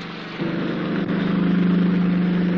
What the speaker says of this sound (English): Engines, Mitch. I can hear engines.